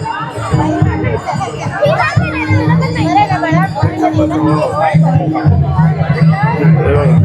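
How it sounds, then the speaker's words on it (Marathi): A dense crowd at the Kokan Mahotsav fair in Mulund, with steady babble, children's shouts and nearby voices talking over the continuous hubbub of a busy food-stall area. "गर्दी जबरदस्त आहे इकडे"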